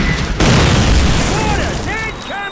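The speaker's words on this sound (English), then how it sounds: "Mortars! Coming!" A heavy explosion hits in Call of Duty (2003) video game as mortars land, a loud deep boom rolling on under shouted voices.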